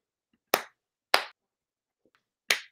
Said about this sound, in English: Let's give a Stoked round of applause